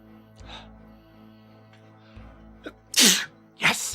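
A character sneezes in a Sega Saturn game, a soft inhale build-up followed by two loud, bright bursts near the end, over background game music.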